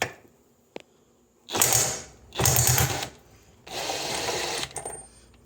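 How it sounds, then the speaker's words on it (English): An impact wrench loosens a 1 inch nut during a Jeep Gladiator power steering job, firing in three loud, close bursts of about a second each, separated by short pauses, after a faint initial click. "we're just going to hit it with my impact and pop that open"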